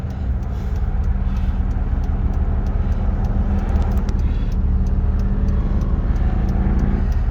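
A loud modified Toyota Camry engine droning steadily and close while the car drives, a constant deep rumble with a brief rise midway and no talk over it.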